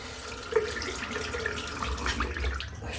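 Tap water runs steadily into a bathroom sink while a razor is rinsed after a head shave, a continuous close splashing wash with a brief clink near the start.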